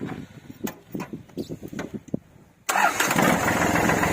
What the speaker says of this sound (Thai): เดี๋ยวลองสตาร์ทเครื่องให้ดูครับ